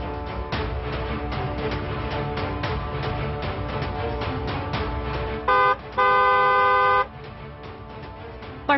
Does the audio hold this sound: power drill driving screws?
no